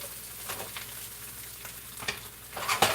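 Vegetables stir-frying in butter sizzle softly in a pan, a faint steady crackle broken by a few scraping stirs and brighter pops near the end.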